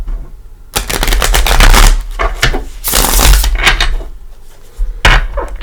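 Tarot cards riffle and flutter in rapid bursts, close and crisp, with a pause between shuffles and a final quick snap.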